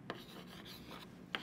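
Quiet rubbing and scraping as writing is wiped off a classroom board during a physics lesson, a faint continuous rasp with two brief sharper scuffs near the start and end, no talk.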